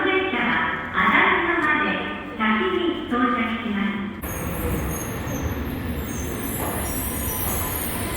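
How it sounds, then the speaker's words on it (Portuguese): A subway train rolls into a station in Japan, a broad rushing rumble that swells and holds steady as it arrives, with someone talking over the start. "O metrô tá chegando agora, olha o barulho."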